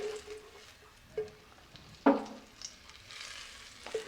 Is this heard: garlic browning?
yes